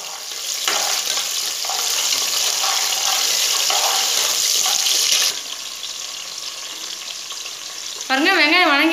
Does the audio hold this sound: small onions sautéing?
yes